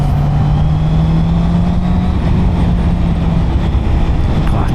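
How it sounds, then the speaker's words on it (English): Honda CB650R motorcycle on its stock exhaust riding along, a loud steady engine drone with a held tone that shifts slightly with throttle, wind noise throughout and no talking. "this bike does sound good for a stock exhaust though"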